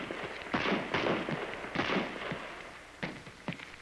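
Several sharp M14 rifle shots crack out on an outdoor 200-yard firing range in an irregular rhythm, loud and close with some more distant reports, and no talking.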